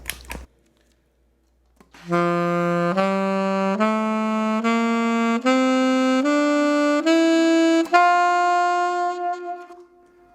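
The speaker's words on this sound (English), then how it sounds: "got a bit too much reverb there" A saxophone climbs a D major scale note by note, each tone held about a second, soaked in heavy reverb that lingers after the last note.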